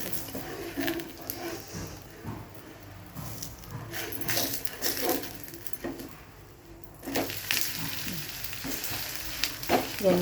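Ragi dosa cooks with ghee in a pan, giving a steady close sizzle and frying crackle broken by scraping and stirring over about ten seconds, with no talk.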